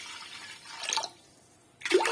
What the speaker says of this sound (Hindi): मैं डालती हूँ यहाँ पे पानी